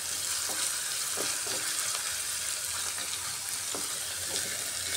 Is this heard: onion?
yes